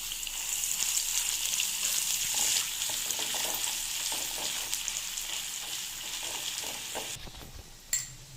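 Garlic paste, curry leaves and chopped green chili sizzle in hot oil for a tempering, a dense, crackling fry with occasional stirring scrapes, steady throughout and fading slightly toward the end.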